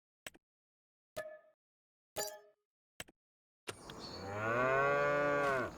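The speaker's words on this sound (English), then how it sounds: "We're going to get some 18-month-old Highland cattle." Highland cattle, eighteen months old, in a farming video game: four short clanking knocks spaced apart, then one long loud drawn-out moo close by.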